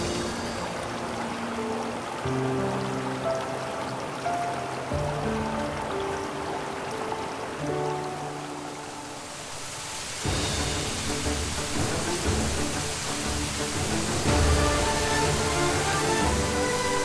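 Yongchu waterfall and its stream in Mureung Valley near Donghae, a steady broadband rush of falling water that continues throughout, mixed with background music.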